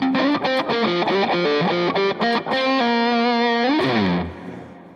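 Distorted electric guitar played through custom Helix Stadium amp-modeller tones, a loud run of picked notes and sustained chords with chorus-like shimmer, ending in a ringing chord that fades out.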